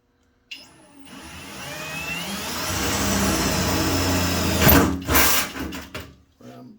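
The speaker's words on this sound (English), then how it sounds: "Drill a hole there." A drill bores a hole in metal for a lathe tool holder, its motor whining up to a steady high hum that swells near the end before stopping abruptly, with a few clunks after.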